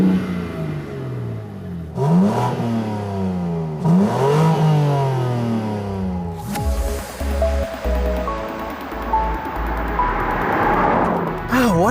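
A BMW M3 with an inline six-cylinder engine, equal-length headers and a quad-pipe exhaust revs loudly in three rising bursts, then settles into a strong, steady drive with the exhaust note close and prominent throughout.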